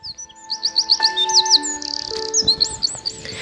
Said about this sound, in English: She heard birds.